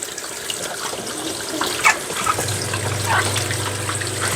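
Items being rinsed under running water during a morning chore, a steady wash of splashing and trickling with a few brief clinks of handled objects, fairly close and continuous.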